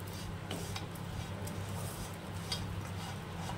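A utensil stirs oats pulao with curry leaves and peanuts in a pan, giving soft, faint scraping and clinking taps over a low background hum.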